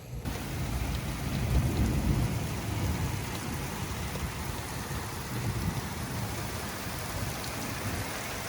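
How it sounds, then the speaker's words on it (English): Heavy rain pours down continuously with deep rumbling thunder rolling underneath, a dense, loud storm with no voices. "look at this thunderstorm."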